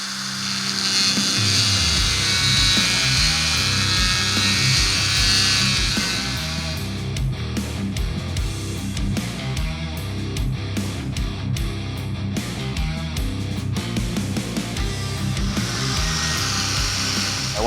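Sanding wheel trimming a Yamaha Banshee adjustment screw during a shift shaft modification, a continuous high grinding whine that shifts in pitch and rasps as pressure varies, close and steady.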